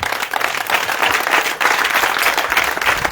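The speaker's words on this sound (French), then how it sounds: "Acclame le Seigneur Jésus" A congregation at a Christian worship service applauding, a steady, loud wash of many hands clapping together that holds without a break from start to finish.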